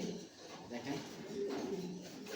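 Racing pigeons coo softly nearby in a loft, low murmuring calls under faint background talk.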